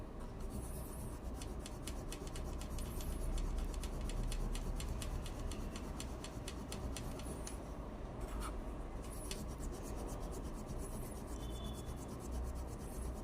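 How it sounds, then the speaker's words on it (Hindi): An old Indian two-rupee coin rubbed steadily with Colgate toothpaste to polish it, giving a continuous close scratchy scrubbing texture with fine repeated strokes and no voices. "पॉलिश करने के बाद चमकेगा और उससे ज़्यादा चमक हो जाएगी।"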